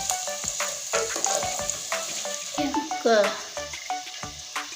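Potatoes frying in oil without salt or turmeric give a continuous close sizzle, overlaid by intermittent tonal, voice-like sounds.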